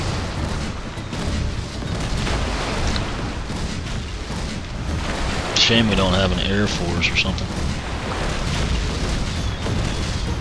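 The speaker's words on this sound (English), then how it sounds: "So they are shooting from the ship too. Looks like they've got two cannons on it." Cannons on pirate ships and towers fire in Skylanders: Spyro's Adventure, giving repeated booming blasts through a busy game soundscape while a person talks over the action.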